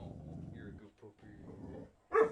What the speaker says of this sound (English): Our dog was getting excited because someone else was about to go outside.